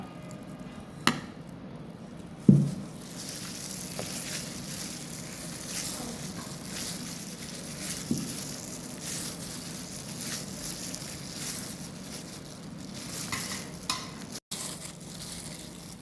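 Burnt tomatoes are mashed for tomato bharta, giving soft, quiet squelching and stirring with a couple of light knocks against the bowl, close but faint over a low background hiss.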